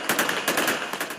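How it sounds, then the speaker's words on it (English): Celebratory gunfire in Syria: a rapid burst of about a dozen automatic shots rattling off in quick succession, fairly loud with echo, and no talk. "Gunshots to celebrate the moment many in Syria waited for decades to see"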